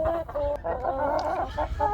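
Chickens and roosters in a coop cluck and call over each other in short, repeated bursts. The sound is close and busy, with no talk.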